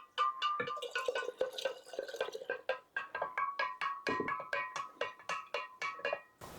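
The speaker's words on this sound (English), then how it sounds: "We're going to go ahead and add the starter." Kombucha starter liquid is poured into sweetened tea, giving a steady, close run of trickling splashes and drips that continue for several seconds without any talking.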